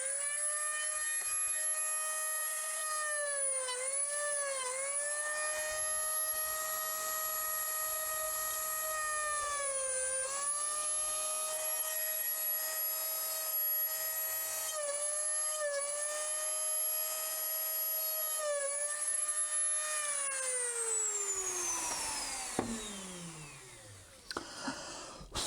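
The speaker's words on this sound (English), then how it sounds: "So I'll drill through these holes here." An electric drill whirs continuously while drilling holes for a model railway point motor, its pitch dipping briefly several times under load before winding down at the end; no talk.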